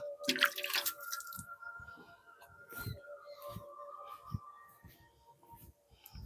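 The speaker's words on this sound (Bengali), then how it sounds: "এইভাবে জলটা দিয়ে দিবেন এইরকম জলটা আপনারা দিবেন" Water is poured onto a tomato seedling planted in compost, giving soft splashes at the start and then a series of faint drips and trickles, with someone speaking quietly underneath.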